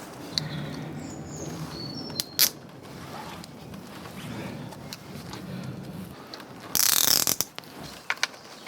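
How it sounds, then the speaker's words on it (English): Plastic cable tie ratcheted tight on a Honda CB250 Nighthawk handlebar, a few short zipping clicks close by, scattered among handling noises and quiet movement. "Cable tie"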